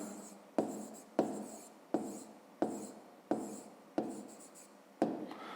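A pen scratches out an answer on paper in a fifth-grade maths exercise, sounding as seven short, evenly spaced strokes, each starting with a sharp tap and fading, close and quiet.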